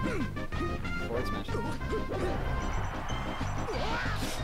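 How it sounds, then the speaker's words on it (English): A forward smash lands in a Super Smash Bros tournament match, a series of sharp crashing hits and game effects heard with crowd noise and commentary underneath. "forward smashes his cover"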